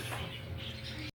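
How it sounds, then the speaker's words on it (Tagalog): Parakeets in a flight cage during feeding, a dense steady chatter of small-bird calls and chirps, fairly close and continuous, ending with a brief sharp tap. "nagpatuka na nga ako ng aking mga parakeets dito sa sa fly cage"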